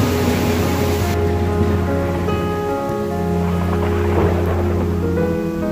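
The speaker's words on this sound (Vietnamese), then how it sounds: "Trời đang có sấm sét" Steady heavy rain with a low rumble of thunder rolling underneath, continuous and loud, no voices.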